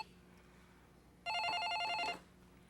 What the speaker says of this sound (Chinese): 你人伫遮哪无爱接电话啦？